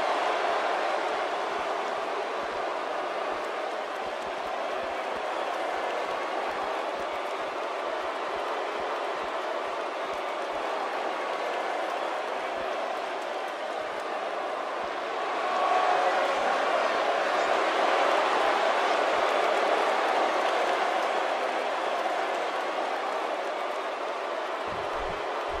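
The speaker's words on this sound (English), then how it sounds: "it sounds to me like the crowd is more than ready for this one" WWE Smackdown wrestling arena crowd for a tag team match, a dense steady roar of many voices that swells louder midway, with commentators talking over it.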